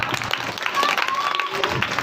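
Loud applause from the crowd at a Hindi poetry gathering (kavi sammelan), dense clapping throughout with voices mixed in.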